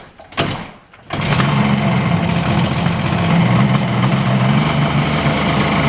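A 2002 Yamaha FZ1 motorcycle, a restored barn find, cranks briefly and catches, then settles into a steady, loud, close idle that runs without a break to the end.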